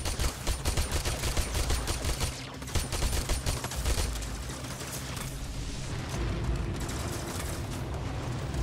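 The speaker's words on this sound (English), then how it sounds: "gonna try to get them with the pistols" Rapid pistol gunfire in Warframe during an Archwing mission: dense bursts of quick repeated shots for the first half, then a steadier rushing, rumbling wash, loud and close with no talk.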